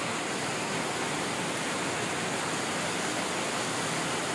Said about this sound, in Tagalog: Buhos pa ng buhos ang ulan.